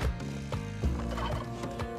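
Turkeys gobble in the video game Spelunky 2, a few rapid, close and loud gobbling bursts over the game's background music.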